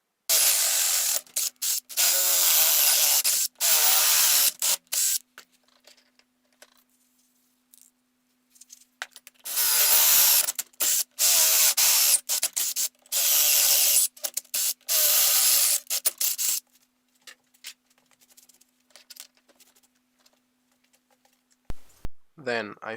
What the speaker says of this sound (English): I start by enlarging the holes to 10 mm.